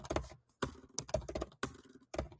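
Rapid keystrokes on a computer keyboard come in several quick clustered bursts separated by short pauses, close and fairly quiet, with no voices.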